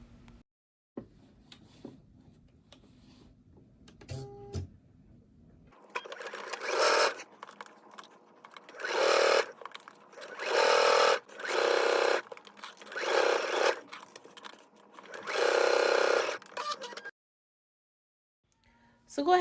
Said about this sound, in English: So go ahead and stitch it all the way.